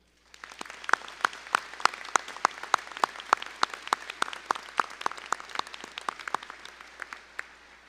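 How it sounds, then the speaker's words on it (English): Commencement ceremony audience applauding veterans, with crisp, steady claps in an even rhythm over a softer bed of clapping from a large hall crowd, tapering off at the end. "Please join me in a round of applause for them."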